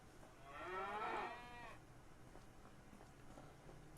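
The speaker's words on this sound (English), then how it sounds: "Oh, wait. That's a little cow." A single cow moos in the farming game Farming Simulator 25, one drawn-out, wavering call lasting about a second over a faint steady background hum.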